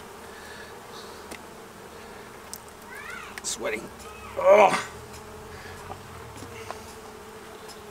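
Honey bees buzz steadily around an open hive during a honey harvest, a continuous drone with louder passes close by as someone speaks briefly over it.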